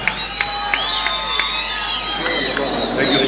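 A crowd at a Mashujaa Day celebration in Kericho County cheers and claps for Governor Eric Mutai, a loud, dense wash of voices and applause lasting a few seconds.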